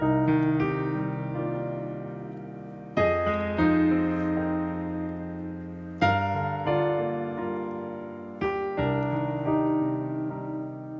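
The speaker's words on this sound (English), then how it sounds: "minor 7 chords sound like this" Sustained piano chords with a minor-seventh color, struck one after another at a slow, even pace, each left ringing, with no talking.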